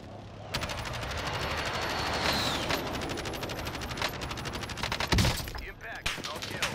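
An airstrike hits in Call of Duty Modern Warfare, rapid rattling bursts of heavy gunfire and explosive crackle stacking into a dense, loud barrage with a sharp boom near the end, game sounds mixed over faint radio chatter.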